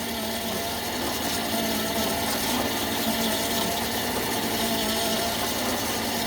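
A milling machine takes a final cut on a Myford cross slide T-slot cover, with a steady motor hum and a faint grinding cutter sound running evenly throughout, at moderate distance.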